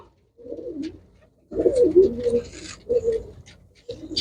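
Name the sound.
pigeons cooing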